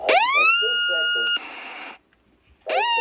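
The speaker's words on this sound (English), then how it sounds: "This has to be a record for the highest pitched siren." A shrill electronic siren from a Midland 74-105 radio sweeps up to a piercing high pitch, cuts out, then starts rising again, loud and close.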